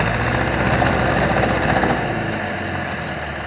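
A worn-out tractor engine strains loudly and steadily while being rocked in reverse on an icy forest track during timber hauling, a rough, dense mechanical roar that eases slightly toward the end.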